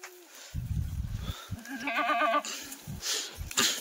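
Kathiawari goats on a farm bleat loudly and repeatedly, several wavering calls close by with shuffling and rustling between them.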